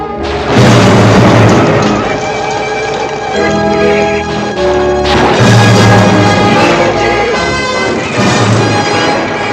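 Bombs exploding in a film, a continuous loud barrage of booms and crashes with ringing, rumbling tones and no talk over it.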